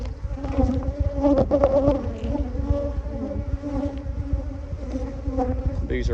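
Honey bees from a huge colony buzz steadily during a hive inspection, a dense close drone with swelling and fading notes and no talk.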